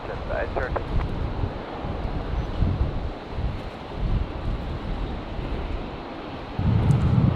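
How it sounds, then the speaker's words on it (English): Strong, gusty wind at Brisbane Airport, buffeting the microphone with a continuous low rumble and noise that swells louder toward the end. "It's obviously still very, very windy out here, as you can tell."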